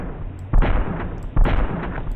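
Two sharp, booming video-game gunshots about a second apart, each with a short rumbling tail over a low steady background.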